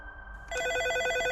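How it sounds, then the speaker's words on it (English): A telephone bell starts ringing partway through, a rapid trilling ring that repeats steadily at moderate volume over a quiet room background. "Incidentally, the phone's ringing."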